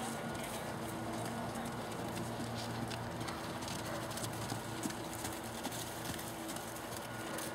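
Faint, somewhat distant hoofbeats of a horse working in an arena during a riding lesson, soft rhythmic thuds over a steady background hum.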